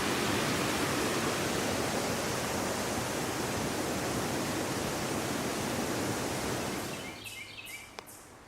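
Rushing river at Clifton Gorge in Ohio, a dense, steady broadband roar of flowing water that fills most of the clip, then drops away sharply near the end, leaving faint ticks and quieter background.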